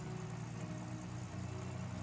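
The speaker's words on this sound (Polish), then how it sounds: "Ale ma słaby jakiś silnik, coraz słabszy jest ten samochód." A weak, sluggish car engine in the Gold Mining Simulator video game runs steadily at a low idle-like drone, quiet and continuous with no talk.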